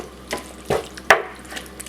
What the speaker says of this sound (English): I'm gonna add more water to this